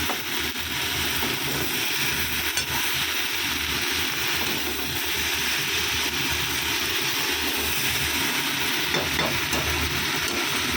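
Red lentils frying with ginger-cumin paste and turmeric give a loud, steady close sizzle with constant scraping stirs throughout, no talking.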